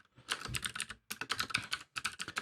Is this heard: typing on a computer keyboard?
yes